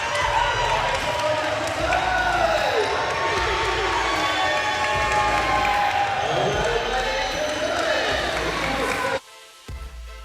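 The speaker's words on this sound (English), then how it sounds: "Roaring crowd here on this Friday night" Loud, roaring crowd cheering and clapping fills an indoor jai-alai court on a Friday night after match point, with commentators talking over the din before it drops away sharply near the end.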